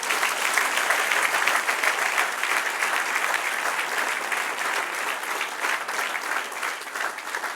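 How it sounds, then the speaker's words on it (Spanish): A church congregation at a Spanish-language service claps together, producing dense, sustained applause that holds at an even level throughout, with no talk over it. "Dele un aplauso al Señor."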